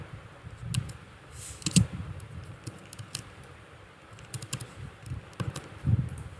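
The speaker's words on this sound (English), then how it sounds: "I'll just type it again." Keys on a computer keyboard typed in quick scattered clicks while building a sentiment game in Scratch, light and close over a low background murmur, with no talking.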